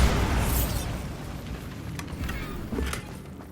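A Bombarda spell explosion in Hogwarts Legacy: a loud burst at the start that fades into a rumbling, crackling tail, with a few fainter pops following.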